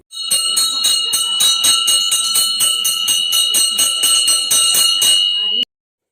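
A small temple bell rung rapidly and continuously, bright metallic clanging repeating in a fast rhythm for about five seconds before stopping abruptly.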